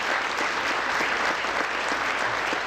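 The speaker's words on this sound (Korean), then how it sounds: "다시 한번 뜨거운 박수 부탁드리겠습니다." Dense, steady applause from a large audience at a national prayer breakfast gathering, loud and continuous throughout with no pauses.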